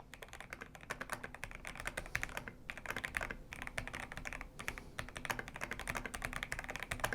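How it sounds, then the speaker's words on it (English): Rapid, continuous typing on a MIIIW BlackIO 83 mechanical keyboard, with dense clicky keystrokes and a few brief pauses, close and fairly quiet throughout. "now I can again show you my typing"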